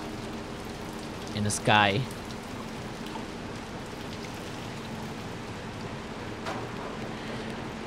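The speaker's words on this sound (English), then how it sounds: "I like the sound of the rain" Steady rain pours throughout a rainy scene in the video game Little Nightmares II, a continuous hiss that stays even from start to finish while a voice talks briefly early on.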